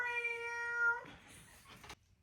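A person imitates a cat's meow aimed at a housesitting cat named Eloise, a clear drawn-out nasal mew with a falling tail that ends abruptly.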